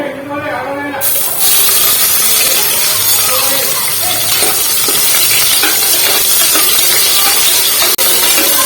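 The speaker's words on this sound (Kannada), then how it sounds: "ನಾವು ಚೆನ್ನಾಗಿ ಫ್ರೈ ಮಾಡ್ಕೋಬೇಕು ಉಳ್ಳಾಗಡ್ಡೆ ಹಸಿ ವಾಸನೆ ಹೋಗೋವರೆಗೂ" Onions fry in hot oil with whole spices for a soya chunks biryani, a loud continuous sizzle and hiss that starts abruptly and carries on steadily close by, with a voice talking over it.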